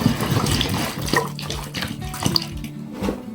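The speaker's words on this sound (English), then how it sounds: "This is just tap water" Tap water runs steadily from a faucet, a splashing, gurgling flow with small drips and bubbling, close and fairly loud with no voices, at a farm where a rescued horse is kept.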